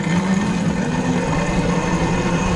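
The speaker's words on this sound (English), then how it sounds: "We're on my little Burromax TT750R." A Burromax TT750R electric pit bike with a 750-watt mid-drive motor drones steadily and loudly up close, a constant humming whine with no voices over it.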